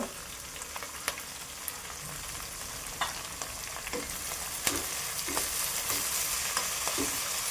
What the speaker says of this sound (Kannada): ಇದನ್ನು ಚೆನ್ನಾಗಿ ಬಾಡಿಸ್ಕೋಬೇಕು.